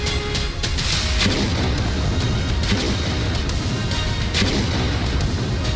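Turkish military airstrikes and artillery fire against militant positions, a dense, continuous barrage of heavy booms and rumbling blasts, loud and overlapping with sharp repeated impacts throughout.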